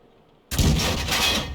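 A tank cannon blast hits a Panther in the World of Tanks video game. It comes as one sudden, loud, booming impact after a near-silent moment, then rumbles on heavily to the end.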